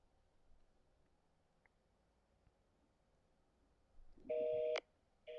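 A phone call made to a police department line: a faint hum gives way to two loud, sustained tones and the start of another, like a dialing or busy signal heard near the end.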